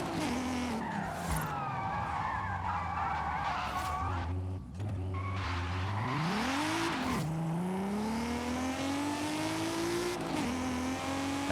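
Car engine in Forza Horizon 5 revving hard with shifting pitch sweeps, tyres squealing through a drift, loud and continuous throughout.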